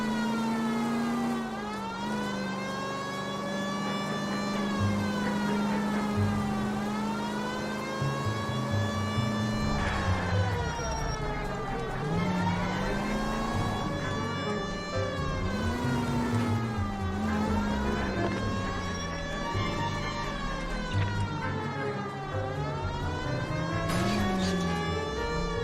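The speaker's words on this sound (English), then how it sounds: "Oh, sweet. We got a siren." A loud, continuous wailing police car siren in the video game L.A. Noire, rising and falling in long sweeps, steady and close, with no talking.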